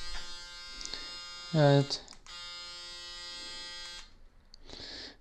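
A Braun Series 7 electric shaver runs with a steady high buzzing drone and pauses briefly partway through, with a voice and a few louder handling noises over it.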